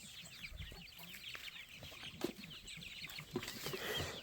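Free-range chickens cluck and chatter steadily at a farm, with some louder squawks near the middle and end and a dense layer of birdsong and bustle throughout.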